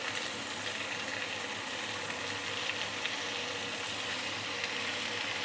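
Marinated catfish sizzles in a wok with dried chili for a Kung Poh catfish dish, a steady, dense frying hiss that holds evenly throughout without talk.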